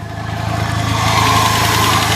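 A Buick LeSabre engine idles steadily nearby, a constant low rumble with a faint rattle throughout; its drive belt is missing.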